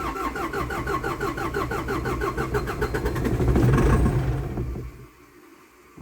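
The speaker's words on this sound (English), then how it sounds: "it's been a while since we cranked this machine up, so I'm just hoping that the thing will actually start" A CAT 206B excavator engine cranks for several seconds with a rapid rhythmic churn, catches and roars briefly, then drops to a low idle. The start is rough, and no one speaks.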